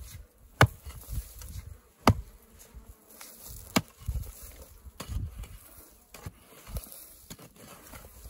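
Apis honey bees buzzing inside a termite mound in the middle of a pasture, a low steady hum broken by sharp knocks and thumps of work on the mound.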